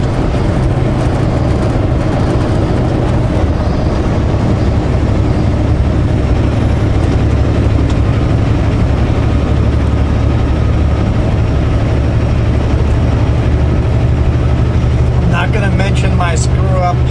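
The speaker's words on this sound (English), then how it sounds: "So we've got some old Ford tractors, pre-New Holland days," Old pre-New Holland Ford tractors fertilizing and seeding a field give a loud, continuous low engine rumble throughout, steady with no breaks, and a voice is heard talking over it near the end.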